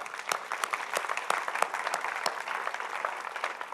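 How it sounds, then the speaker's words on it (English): A modest outdoor crowd at a new library's ribbon-cutting claps, fairly faint and somewhat sparse with distinct individual claps standing out over the steady patter. "I want to give all of you a big round of applause and appreciation."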